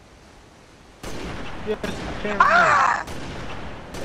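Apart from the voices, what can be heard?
explosion in a video game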